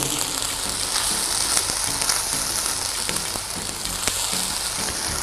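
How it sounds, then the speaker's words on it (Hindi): Tomato puree goes into a frying beef kofta curry masala, and the masala gives off a dense, steady, crackling sizzle throughout with light stirring clicks. "अब हम इसमें डाल देंगे टमाटरों की प्यूरी जो हमने बनाई थी, मिक्स कर लेंगे।"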